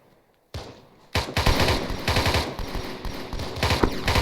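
Rapid gunfire during an outdoor field training exercise: after a brief quiet start and one shot, a long close burst of repeated cracks rattles on continuously, loud and dense, no talk.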